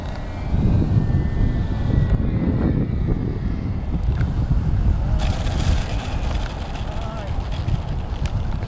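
An E-Flite Apprentice RC model airplane motor drones steadily outdoors under heavy wind noise, with people talking nearby throughout.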